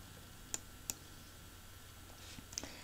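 A computer mouse clicks softly while working in an Excel spreadsheet: two quick clicks close together, then a third a moment later, faint and close against a quiet room hum.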